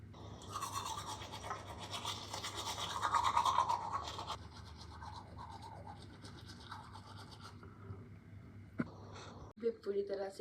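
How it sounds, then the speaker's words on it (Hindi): Someone brushes their teeth in a morning routine, with close, steady scrubbing strokes building to a vigorous stretch and then easing off, followed by a few clicks and small handling sounds at the end. "सबसे पहले मैं करने लगी हूँ ब्रश, जो मेरी डेली रूटीन का सबसे पहला पार्ट है।"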